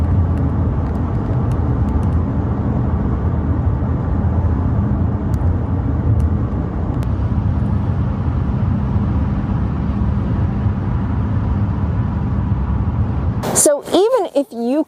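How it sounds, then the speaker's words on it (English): A steady low roar of tires on pavement fills an SUV interior, constant and droning, with a brief burst of talking at the very end. "I tried to capture the tire noise from inside the car."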